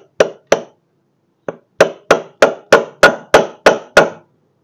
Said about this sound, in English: A socket and hammer never did me dirty.